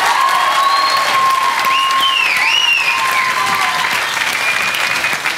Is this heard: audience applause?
yes